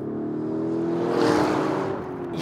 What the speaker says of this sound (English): The exhaust, you get these pops and these crackles.